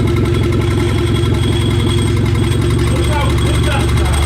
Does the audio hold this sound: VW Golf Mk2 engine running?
yes